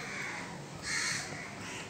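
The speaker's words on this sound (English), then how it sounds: "Oh yes, I hear a bird." A crow calls outdoors in a short, fairly loud burst of harsh caws, standing out over steady background noise with no one talking.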